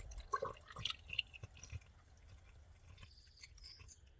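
Coolant pours from an awkward container into a Toyota Tundra 4.6L engine, giving a few faint splashes and drips early on that trail off into near silence.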